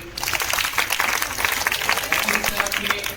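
The audience at a quiz competition gives dense, continuous applause for the team Clever Minds after the first round, with a voice speaking over the clapping.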